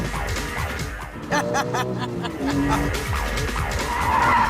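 A Porsche GT3's tires squeal in long wavering screeches as its engine revs hard nearby, the car sliding through a drift with talk faintly underneath.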